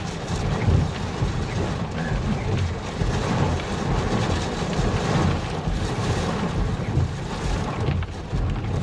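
Heavy storm with strong wind and rain buffeting a vehicle, a dense, steady roar of gusts and rushing water close by throughout, with no talking.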